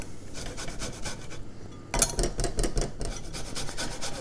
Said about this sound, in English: So I'm gonna grate some lemon, and I'm using my grater here